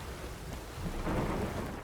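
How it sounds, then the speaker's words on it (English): Thunderstorm downpour in The Witcher 3: Wild Hunt, a brief steady wash of heavy rain with a low rumble swelling slightly midway. "This downpour's a bastard."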